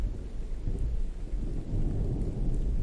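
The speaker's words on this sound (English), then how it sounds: "Hope the rain and stuff ain't too loud for y'all." Rain pours outdoors under a rolling rumble of thunder, a dense continuous wash of rainfall with deep low booming throughout and no speech.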